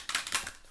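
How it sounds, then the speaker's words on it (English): A deck of tarot cards is shuffled in a brief riffling burst of papery flutters and soft taps, close and fairly quiet, with no talking. "shuffling up this final deck here."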